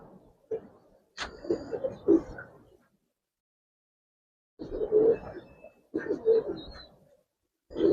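Giribaz and coloured pigeons coo close by in a few soft, low burbling bursts separated by short silent pauses.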